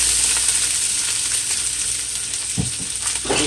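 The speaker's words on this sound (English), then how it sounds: "stir fry up my zucchini right quick so it not burn" Zucchini stir-fries in a hot pan with a loud, steady hiss and crackle that runs throughout, broken near the end by a couple of brief scrapes or tosses.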